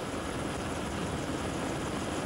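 A helicopter hovering above a bicycle road race, its rotor and engine noise a steady, dense roar that fills the short clip with no variation or pauses.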